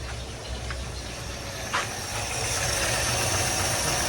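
A 1957 Chevy engine idles just after restarting, a steady low rumble close by that rises slightly in level partway through and holds smooth and even.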